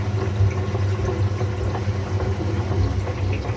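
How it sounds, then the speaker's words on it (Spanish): Recirculation pump of a Samsung WF106U4SAWK inverter Eco Bubble washing machine runs as a steady low hum with water churning, continuous and close, no voices. "ya me está activando la otra bombita de recirculación"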